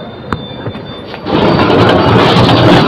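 A moving train at a railway station in the early morning hours: faint clicks and distant rumbling give way to a loud, close, sustained roar of wheels with high squealing over it.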